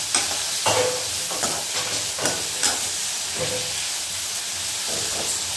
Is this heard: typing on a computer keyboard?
no